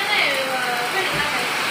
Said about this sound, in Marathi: मित्रांनो जोरदार पाऊस चालू झालाय बघितलं का.